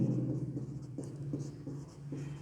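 Chalk scratches across a board during a maths lesson in a series of short, soft strokes over a steady low hum, with no talk.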